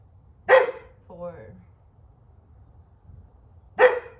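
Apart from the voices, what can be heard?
dog barking outdoors during yoga session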